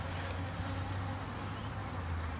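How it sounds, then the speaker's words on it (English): Drone honeybees swarm in a dense, continuous close buzz, loud and unbroken, from hives being handled outdoors. "And grab a drone bee."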